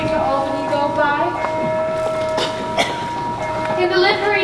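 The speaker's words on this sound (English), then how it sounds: "Shorty Hawkins has just seen the last train to Albany go by." A train passes at night near a small town, its steady rumble and tonal hum continuing throughout under a speaking voice.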